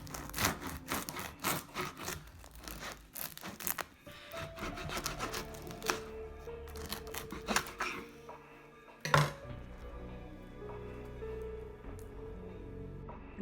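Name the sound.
crust of freshly baked no-knead Dutch oven bread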